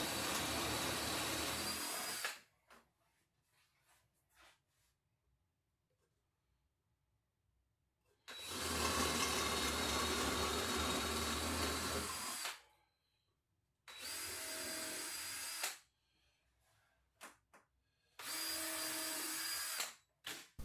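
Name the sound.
drilling into wood with a 3/4 inch spade bit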